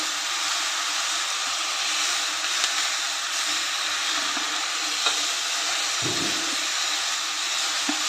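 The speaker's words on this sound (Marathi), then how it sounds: "भाजी घालून चांगलं परतून घेऊया." Chickpea leaf greens sautéing in a hot pan, a steady bright sizzle and hiss running continuously, with a brief stirring scrape partway through and no voices.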